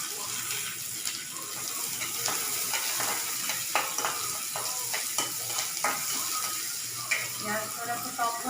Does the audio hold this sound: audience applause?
no